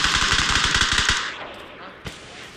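Rapid automatic gunfire in PUBG on PC, a loud fast burst of evenly spaced shots for about a second, then fading to quieter echoes with one faint later shot.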